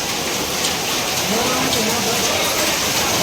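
Heavy unseasonal rain with large hailstones pounds down in Botad, Gujarat, a loud dense unbroken roar of drops and impacts, with a voice speaking beneath it.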